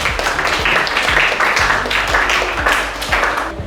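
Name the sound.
class applause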